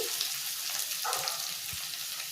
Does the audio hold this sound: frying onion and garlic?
yes